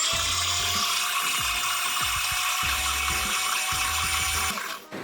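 A kitchen blender whirs continuously while blending peri peri marinade until smooth, with a steady high motor drone and repeated low pulsing thumps as the contents churn.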